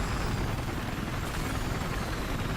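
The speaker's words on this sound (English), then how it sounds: "it's a little bit dangerous to be flying the transport helicopter so low across the water" Transport helicopter in Battlefield 4 flying low over water, a dense continuous rotor and engine roar that stays loud and steady throughout with no talk.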